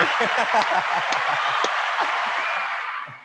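A small group applauds commercial agency of the year national finalists, brisk close clapping mixed with chuckles and murmured voices, tapering off toward the end.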